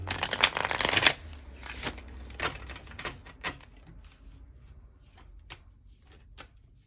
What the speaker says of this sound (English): I'm gonna go ahead and pull out all the cards and lay them out before I get like a final read